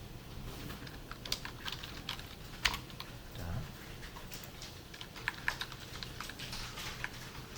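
Typing on a computer keyboard while writing code, with quick irregular clicks of keys and the tab key tapping close by over a low background hum.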